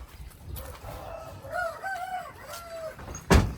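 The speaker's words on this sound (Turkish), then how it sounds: "Aa bak burada bir tavuk var." A chicken at an animal and bird market clucks and crows in a few close, rising-and-falling calls, followed by a sharp knock near the end, with no talking.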